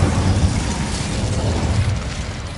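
The Incendio fire spell cast in the Hogwarts Legacy video game gives a loud, dense whooshing burst of flame with a rumbling low roar, sustained for a couple of seconds, with no talk.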